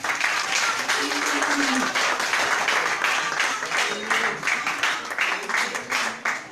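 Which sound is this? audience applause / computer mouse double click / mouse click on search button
audience applause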